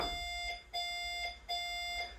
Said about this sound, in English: you get those 3 beep noises